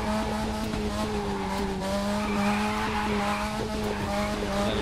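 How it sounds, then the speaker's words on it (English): A car drifts in The Crew 2 racing video game, a steady engine drone overlaid with sustained tire squeal that wavers as the slide is held, loud and unbroken with no speech. "it's just a matter of controlling the drift with the throttle"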